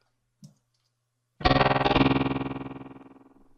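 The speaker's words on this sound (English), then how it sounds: "a low-frequency oscillator, an LFO, to give it some kind of warbly, wubby sort of effect" A single low, sustained cello note swells in after a faint click, its tone pulsing with a steady, rapid LFO pitch wobble as it slowly fades.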